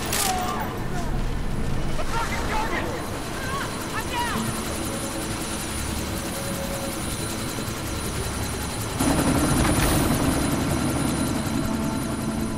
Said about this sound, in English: That chopper's about to take off.